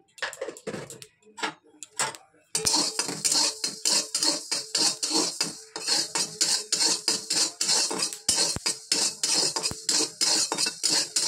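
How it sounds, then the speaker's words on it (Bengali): Dry red chilli and panch phoron roast in an oil-free pan, with a spatula scraping and clattering in a quick, steady rhythm after a few sparse opening taps. "শুকনো কাঠখোলায় একটা শুকনো লঙ্কা দিয়ে দেবো এই যে আর অল্প একটু পাঁচ ফোড়ন দিয়ে দেবো এটা এখন ভাজতে থাকবো"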